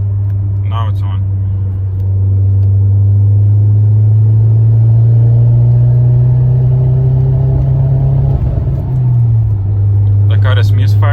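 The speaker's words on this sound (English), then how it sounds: "The car is misfiring and check engine is blinking." An Audi A4 B6 with a 1.8T turbo engine drones steadily while driving in fourth gear with a misfire, a loud low hum that rises slightly then dips, with brief talk at the start and end.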